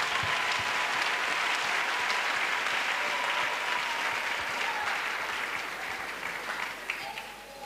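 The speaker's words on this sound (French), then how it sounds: "Offrande d'acclamation pour le Seigneur Jésus-Christ." A congregation at an evangelistic crusade applauding in acclamation, sustained dense clapping from a large crowd that stays steady and loud before easing slightly at the end.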